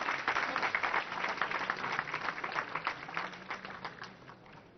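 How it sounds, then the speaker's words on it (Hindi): Audience applause at a Bhajan Sandhya gathering honoring Atal Bihari Vajpayee, steady moderate clapping from a crowd sustained throughout, somewhat distant and muffled. "जोरदार तालियां बजा के उनका अभिनंदन करें"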